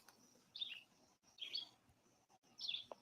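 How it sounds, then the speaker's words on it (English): Faint birds chirping within city limits, three brief bursts of high twittering calls spaced over a few seconds against a soft hiss of background ambience. "Hear them birds?"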